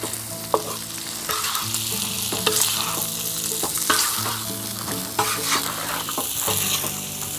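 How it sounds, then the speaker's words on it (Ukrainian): Ojakhuri seasoned with khmeli suneli and red pepper being stirred in a saj pan: close, lively sizzling with repeated rhythmic scrapes and clinks of the utensil over a low steady hum. "І добре перемішуємо."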